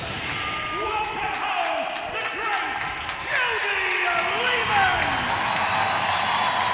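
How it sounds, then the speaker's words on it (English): Dense ice hockey arena crowd at a sold-out Sheffield Steelers home game against the Nottingham Panthers roars and cheers for returning Steelers great Jody Lehman, a loud, sustained wash of voices and whistles with a spoken announcement running over it. "A great cheer for a Steelers great."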